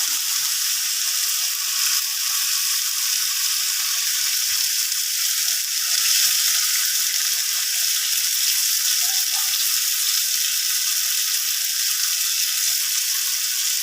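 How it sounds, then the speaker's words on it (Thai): Fatty beef grilling for Thai nam tok: a steady, bright sizzle and crackle of fat over the heat, continuous and fairly loud with no talk. "นี่ย่างให้มันเหลือง พอเหลือง พอให้มันหอมนั่นแหละ"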